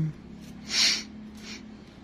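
A single short sniff, a breathy hiss of air drawn in through the nose, with a fainter second sniff after, over a low steady hum.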